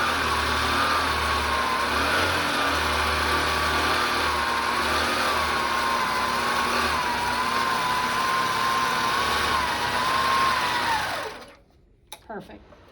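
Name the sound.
quilting machine sewing down the batting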